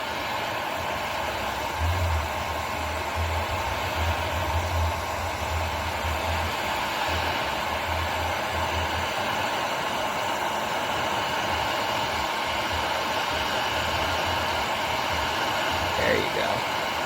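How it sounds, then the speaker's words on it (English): A heat gun blows a steady, loud whooshing hum over ATV plastics on a Honda 400ex/416ex, constant airflow with a low droning rumble that comes and goes. "You don't want to hold the heat gun right to the plastics."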